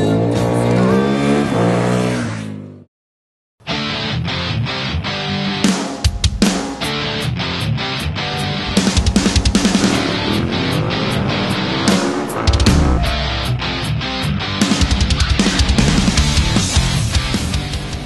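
A Mitsubishi Lancer Evo X races on the technical Pôle Mécanique d'Alès circuit, its engine loud and continuous with repeated revving, gear-change bursts and tire squeal, broken once by a brief cut to silence.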